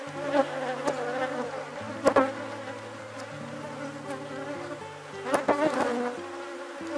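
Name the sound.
Apis honey bees buzzing around an open hive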